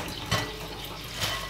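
Tap water runs steadily into a sink as vegetables are rinsed, a continuous close hiss and splash with slight swells, no voices.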